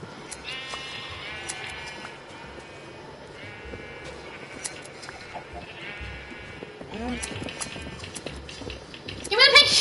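Minecraft sheep bleat repeatedly in short nasal calls over a blocky farm pen, with faint footsteps and friends chatting over the game sounds.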